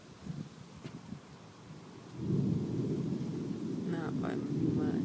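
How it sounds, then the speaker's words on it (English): Gusty wind from a microburst rumbles low and steady, swelling louder after a couple of seconds, with a storm's distant rumble underneath and a faint voice-like chirp near the end. "it's getting a little windy"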